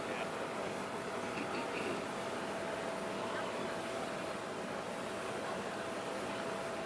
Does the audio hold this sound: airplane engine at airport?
yes